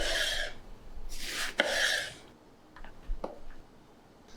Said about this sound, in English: So as you can see, I'm rubbing her with lemon.